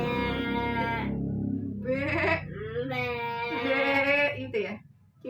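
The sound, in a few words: child imitating a goat bleating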